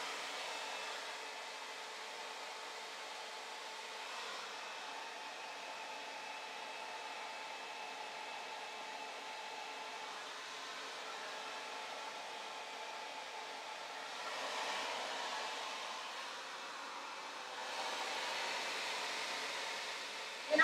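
Hair dryer blowing on natural curly hair, a continuous airy hum held for about twenty seconds that swells slightly at times as the dryer is moved, with no speech.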